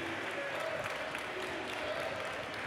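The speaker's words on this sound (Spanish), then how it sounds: "Un fuerte aplauso para mister." Audience at a Spanish freestyle rap battle event applauds and cheers in a dense, continuous wash of crowd noise throughout.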